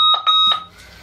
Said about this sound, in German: Überkrasse Wecker.